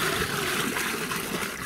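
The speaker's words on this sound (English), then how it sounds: "we'll half fill the hole with water" Water poured steadily into a fence post hole dug on a sloping site, a continuous close splashing rush that holds even throughout with no voices.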